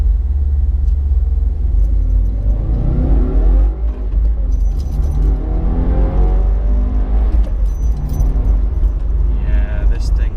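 A 2016 Subaru WRX fitted with a Cobb Accessport pulls in first gear, its engine rumbling loud and steady with rising tones from inside the cabin, while a voice talks over it.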